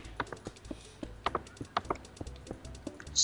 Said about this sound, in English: I can hear your mouse clicking.